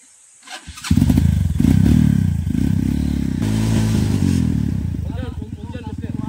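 A trail motorcycle engine starts with a clatter, then idles and revs loudly and steadily close by, with voices talking over it.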